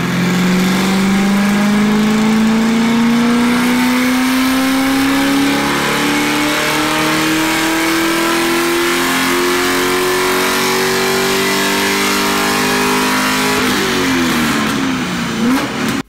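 C5 Corvette track car with LS1 engine on a dynamometer pull, running loud and steady as the revs climb smoothly in pitch for several seconds before dropping off abruptly near the end.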